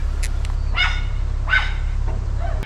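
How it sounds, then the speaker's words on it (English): A dog barks a few separate times near a canal junction, the sharp calls standing out over a steady low engine rumble, likely from a narrowboat. "His barking was alerting everybody that something was going on at the junction"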